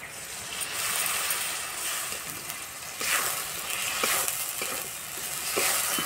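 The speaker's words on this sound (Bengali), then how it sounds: "এই যে আলু ভাজা হয়ে গেছে, এবার দেবো বেটে রাখা মশলা।" Fried potatoes sizzle in a pan as ground spice paste goes in, a bright steady frying hiss broken by scraping stirs and small spattering bursts, close and without talk, for a Bengali pui shak (Malabar spinach) dish.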